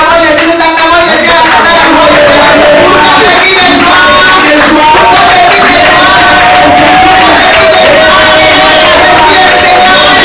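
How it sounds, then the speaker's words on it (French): A congregation cheers and acclaims loudly and continuously at a prayer meeting, with a dense crowd roar, shouts and whoops filling the whole stretch without pause. "Nous acclamons Jésus."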